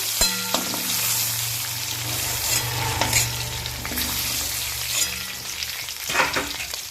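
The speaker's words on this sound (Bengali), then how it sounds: "এই তেলের মধ্যেই আমি কলাটাকে ভালো করে ভেজে নেব" Green banana frying in hot oil in a pan gives a steady, close sizzle with scraping stirs and occasional utensil clinks, and no talking.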